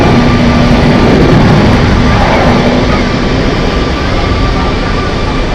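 A Delta Airbus A330 jet taxiing out at Zurich Airport, a loud, continuous engine roar and whine heard from nearby, holding steady throughout with a faint hum beneath it.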